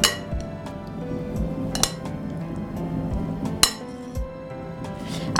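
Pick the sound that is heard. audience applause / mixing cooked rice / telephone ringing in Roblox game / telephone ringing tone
mixing cooked rice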